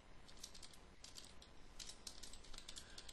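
Soft, rapid keystrokes on a computer keyboard as an email body is typed, quiet, close-up clicking in irregular bursts with brief pauses and no voices.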